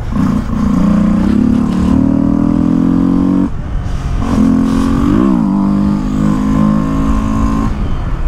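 A Honda CB 300F motorcycle engine revs loud and close, climbing in pitch, dropping briefly as a gear is shifted, then pulling up again in a sustained roar.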